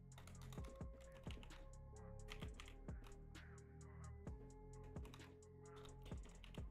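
Steady, close-up typing on a full-size computer keyboard during C++ programming work, with crisp key clicks in uneven bursts and a few heavier thunks, no voices.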